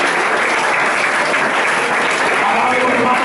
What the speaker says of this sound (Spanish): Un aplauso fuerte a Jesucristo.